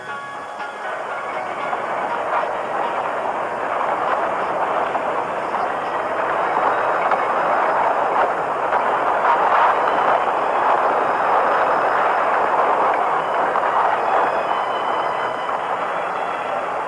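A giant crawler transporter slowly carrying a Saturn V rocket toward the launch pad, a loud, continuous, broad rumbling roar that holds steady throughout with no voices.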